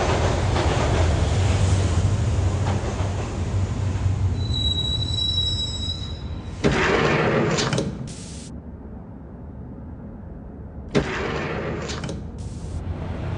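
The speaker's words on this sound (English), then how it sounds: "The train doors had already shut behind me, and I was in for the ride." A train in the Max Payne video game rides toward Roscoe Street Station, its wheels squealing loudly along the rails over a steady rumble, with sharp metallic screeches that cut in and out.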